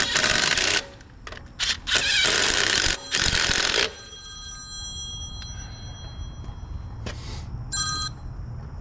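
A telephone rings with an incoming call during a tire change: several loud, insistent ringing bursts in the first four seconds, then quieter background noise with a couple of short electronic tones near the end.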